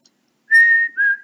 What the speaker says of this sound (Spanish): Todavía podía silbar igual que en el sueño